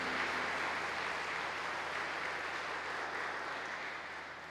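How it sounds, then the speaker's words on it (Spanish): A concert audience applauds in a steady, dense wash that holds evenly and slowly fades, heard from a distance and without talk over it. "Quiero que le manden un aplauso a Madre Teresa, a San Francisco, a tanta gente que nos ha precedido."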